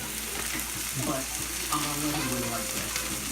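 Potatoes fry in olive oil in a pan, giving a steady, close sizzle that runs throughout, with faint clinks and stirring on top.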